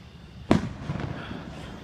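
Fourth of July fireworks burst with a single sharp boom at mid-clip, followed by a rumbling, crackling tail that fades slowly; moderately distant, no voices.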